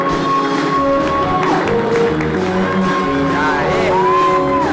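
A live audience claps and cheers for a guest being welcomed onto a Brazilian talk show set, loud, continuous applause mixed with shouts and whoops throughout.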